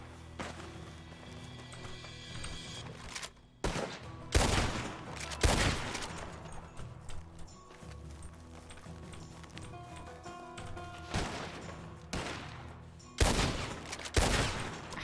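Gunfire in the western game RedM during a roleplay shootout: sharp, loud shots in scattered bursts over fifteen seconds, some single and some clustered, above a low background rumble.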